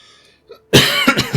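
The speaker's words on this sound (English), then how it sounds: "I've got a right tickly cough at the moment and it just does not want to go away" Someone coughs loudly at close range, a harsh burst followed by a couple of shorter hacking coughs after a brief quiet moment.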